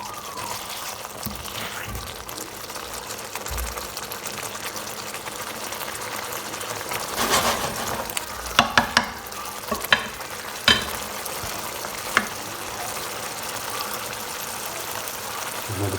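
Chickpea and potato curry (chana aloo jalfrezi) with tomatoes simmering in a pan, a steady soft sizzle and bubble throughout with a few sharp clinks of a utensil against the pan near the middle.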